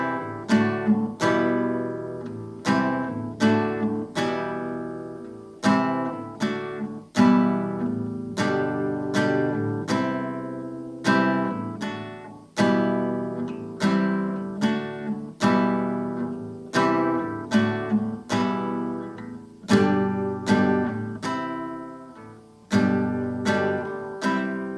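Acoustic guitar strumming the verse chords of a song, a steady repeating pattern of chord strokes played close and clear with no voice.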